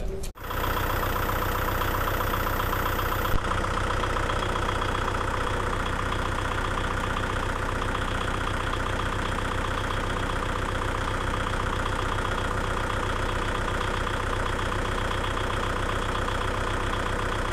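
A Kubota MU4501 tractor engine idles steadily at close range, a constant even drone with no revving or talk across the whole stretch.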